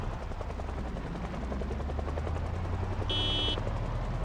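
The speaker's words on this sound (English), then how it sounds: "This is just vanilla helicopter." A helicopter in a zombie survival video game gives a steady, rapid chopping drone with a low rumble that continues throughout, joined briefly by a short electronic tone near the end.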